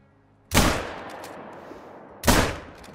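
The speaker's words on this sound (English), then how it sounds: "I just realized I shot it with the 243" Two loud, close rifle shots from a .243 hunting rifle in the hunting video game Medved Taiga, spaced about two seconds apart, each with a sharp crack and a long decaying boom.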